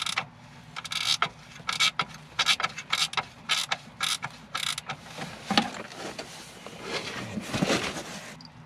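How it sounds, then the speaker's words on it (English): A nut is fitted and tightened by hand on the relay box of a Hot Springs hot tub during a circuit board replacement, giving a run of faint, quick metallic clicks and ratcheting ticks, then softer scraping handling noises close by. "I'm going to put that nut on there, just so everything's lined up where I want it to be."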